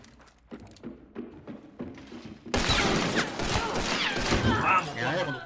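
Gunfire in the video game Hunt: Showdown comes as a few sharp separate shots, then a dense burst of shooting and impacts, with people talking over the action.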